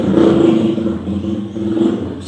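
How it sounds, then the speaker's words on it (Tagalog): A loud motorcycle engine drones nearby, rumbling steadily and then swelling again as it passes by a church setting where a sermon is being given. "palampasin natin yung motor na maingay"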